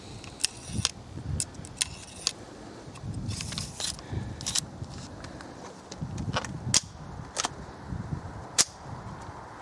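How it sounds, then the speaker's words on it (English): Rounds being loaded into a .22 rifle, a Ruger 10/22, Marlin 60 or Remington 552, at a shooting range: a series of sharp metallic clicks and snaps, fairly close, spread irregularly over steady background noise. "But we're going to be loading 5, just like with the Remington, 5 at a time."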